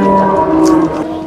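A cow at a livestock market gives one long, close, full-throated moo that holds steady for over a second.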